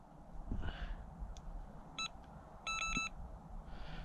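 An electronic bite alarm on a fishing rod set on a rod rest at a riverbank in winter, giving a few short, bright beeps in two quick bursts over quiet outdoor background with faint wind.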